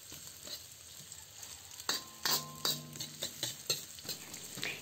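Sliced onion and garlic sauté in a pan, a quiet sizzle broken by a run of rhythmic spatula scrapes and taps that pick up in the second half.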